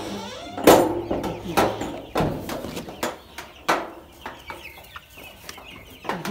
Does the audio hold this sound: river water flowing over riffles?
no